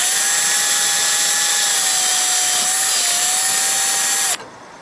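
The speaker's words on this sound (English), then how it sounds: "this uses a screw gun to get them most of the way in" A screw gun whines at steady high speed while driving sealant-dipped screws into an RV roof, a continuous loud close motor tone that stops abruptly near the end.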